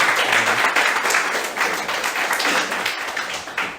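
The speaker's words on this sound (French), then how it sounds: "On peut applaudir encore pour la maison du Seigneur." Church congregation applauding during a service, a dense steady wash of many hands clapping that fills the space throughout, fairly close and loud with no talk over it.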